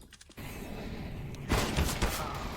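Gunfire in Counter-Strike: a few sharp, loud shots burst out close together in the second half, cutting through a dull, muffled background of game ambience.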